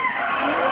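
Drift car number 9 on its first lap at a drift show in Franca, Brazil: a loud, continuous tire screech and roar of skidding rubber filling the whole moment without pause.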